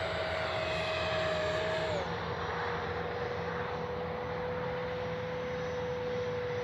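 A Freewing L-39 80mm RC jet descends overhead in the evening, its electric ducted fan giving a steady rushing whine at moderate distance that drops slightly in pitch as throttle is eased.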